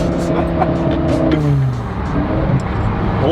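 A modified, non-stock BMW E60 M5 or Mercedes C63 AMG accelerates hard with a loud, continuous engine roar and rising revs. Road and tyre noise fill the whole stretch close by.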